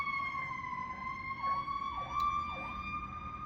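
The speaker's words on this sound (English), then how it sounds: "there's a siren in the background" A siren wails steadily in the distance, a faint rising-and-falling tone over low background rumble, with no voices present.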